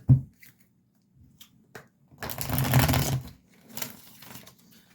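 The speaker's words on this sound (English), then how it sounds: "I'm shuffling the cards there just so we can all see I'm shuffling the freaking cards" A deck of tarot cards shuffled by hand, a few quick soft riffles and taps followed by a longer rapid burst of flicking cards, then a shorter riffle, close and alone.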